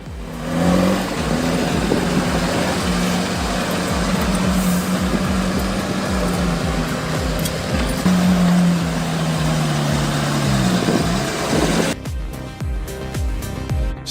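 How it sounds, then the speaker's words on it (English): A plow truck fitted with snow chains labours up an icy hill, its engine loud and close with a strong low rumble and steady revving for about twelve seconds, then cutting off abruptly to a quieter tail. "Then the chains bite, torque stabilizes. The truck climbs through white chaos."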